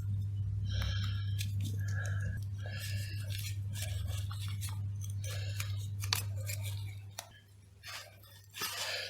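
Scissors snip through the layered box stitching on a Bergen air cushion strap in a run of close, crisp cuts over a steady low hum, with a voice talking faintly underneath.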